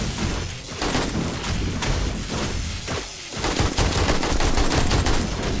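Rapid, dense gunfire in the zombie survival game 7 Days to Die, continuous bursts of shots and impacts layered loudly and steadily throughout.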